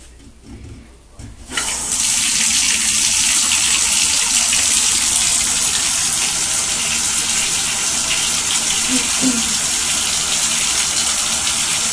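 Water gushes steadily from a tap, a loud, continuous close rush that starts abruptly after a quieter opening couple of seconds and runs unbroken to the end.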